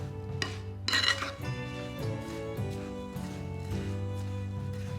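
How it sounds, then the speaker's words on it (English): A big spoon stirs cookie mix made with coconut oil in a bowl, giving close scraping and clinking strokes in an uneven rhythm, with no voices. "Then I'm gonna just take a big spoon and stir it up"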